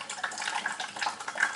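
Water pouring out of a tank orifice as the level reaches it, a steady hissing splash with small bubbling bursts, close and continuous for a brief moment.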